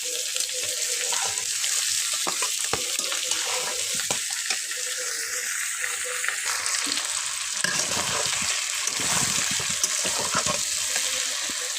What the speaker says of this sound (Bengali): চিকেন আর আলু একসঙ্গে একটু কষিয়ে নিব।